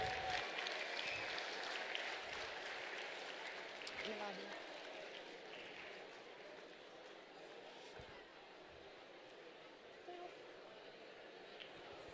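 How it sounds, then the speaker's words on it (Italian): Faint, distant applause from an outdoor event audience welcoming a DJ on stage, a thin steady patter fading slightly over time beneath some murmuring voices. "Quindi per favore fate un bel applauso."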